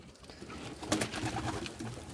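Pigeons kept for flying coo faintly outdoors on a cold, windy day, with brief sharp noises and a low steady background.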